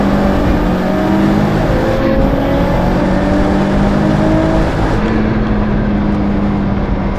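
A Subaru GC8 STI races hard uphill in a close, continuous engine drone that holds steady throughout, with a front fender rubbing against the tire.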